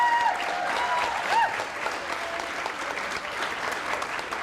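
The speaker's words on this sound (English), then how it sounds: "And a round of applause for all of our young people." Audience applause for young people at a youth-led candidate forum, a full, sustained wash of clapping from a sizable crowd, with a few faint whoops or voices mixed in near the start.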